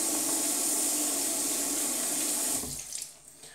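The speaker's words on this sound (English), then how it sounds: "And then we'll rinse it out a little bit at least." Tap water runs steadily into a sink while a brand-new shaving brush is rinsed, a loud continuous splashing flow that cuts off near the end, leaving faint drips and small handling sounds.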